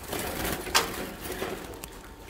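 A male pigeon coos in low, soft repeated calls, close by, over a steady outdoor background hiss.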